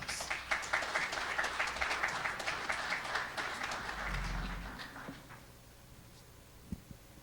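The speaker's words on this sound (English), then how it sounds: "Big round of applause." A school pitch-contest audience applauds a high-school student presenter: steady, dense clapping fills the first five seconds, then thins out and fades to near quiet with a few stray claps.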